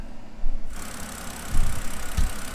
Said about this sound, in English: Let's see if it's gonna start up now and run right